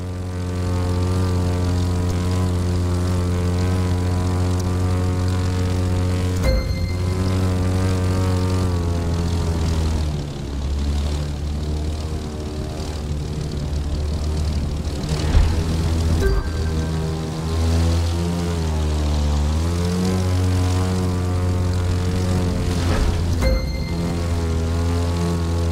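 A propeller airplane in the racing game The Crew 2 drones continuously with a loud, steady engine hum whose pitch shifts during low-altitude maneuvers, constant throughout.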